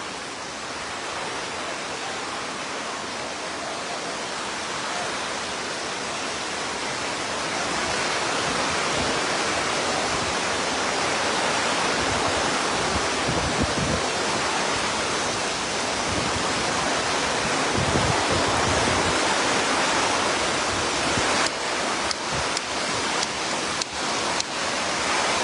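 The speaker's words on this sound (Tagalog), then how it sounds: "Lubog po ang barangay Nunong Castro sa baha." Floodwater from an overflowing sea surging through a flooded village in Barangay Nonong Castro, Lemery, Batangas: a steady, dense rushing roar like surf or a waterfall, swelling louder midway and continuing unbroken, with no voices.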